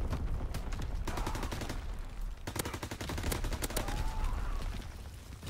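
An MP40 submachine gun in the video game Call of Duty WW2 fires in rapid, loud bursts of automatic fire with short pauses between volleys, alongside other distant shots.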